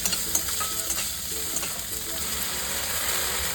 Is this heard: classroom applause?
no